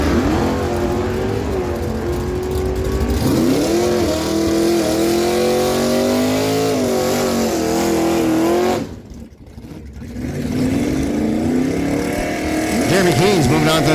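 Drag race cars, including a 1967 Chevy Camaro, rev and launch with loud, droning engine roars that rise and fall through gear changes, with a brief dip before the engines surge again, and talk faintly mixed in.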